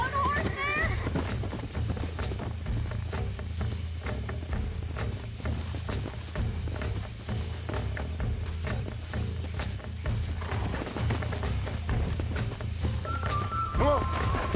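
Horse hooves galloping in the video game Red Dead Redemption, a fast, steady clip-clop that runs throughout, with a brief whinny and people talking over the hoofbeats.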